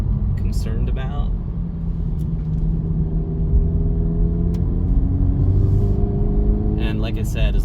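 A 2024 Acura Integra Type S cruising on a rain-soaked road gives off a low engine drone and tire hiss inside the cabin, steady and close, while a person talks over it at the start and end.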